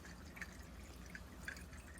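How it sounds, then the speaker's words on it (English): Water draining from a cleared rain gutter, with a few sparse, light drips landing over a soft, steady background trickle; quiet and close, with three distinct drops standing out. "The water all starting to drain."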